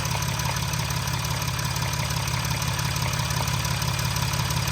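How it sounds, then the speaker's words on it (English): A 2014 Mercedes-Benz 3.0 diesel engine idles steadily with a fast, even knocking pulse from its vacuum pump running through its low rumble, close and constant with no voices. "It's actually your vacuum pump is knocking."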